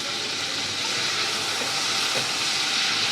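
Cashews and raisins frying in ghee, a steady dense sizzle and hiss throughout with faint crackles, close and even, with no talk.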